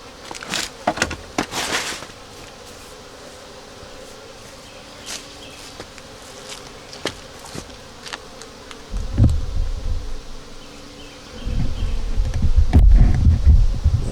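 Honeybees from a small nucleus hive buzz steadily and faintly at close range, with sharper buzzes as individual bees fly past, and louder handling and rustling noises toward the end.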